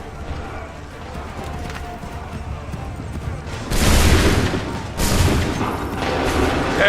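Gunfire volley in Assassin's Creed III: two loud, broad bursts of massed musket fire crack out close together over a steady battlefield din.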